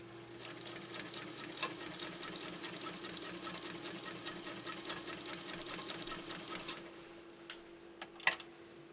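A Viscount Model 929 sewing machine runs a super wide zigzag stitch on satin, its needle chattering in a fast, even rhythm close by for about seven seconds before stopping with a sharp click.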